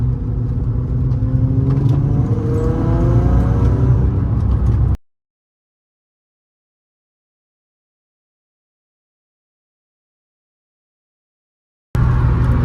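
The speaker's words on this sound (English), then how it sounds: "So this is, I think, my third test drive, and it feels the best." A Nissan R32 on a test drive, with a close engine rumble and shifting revs that drop into silence midway before the drone returns at the end.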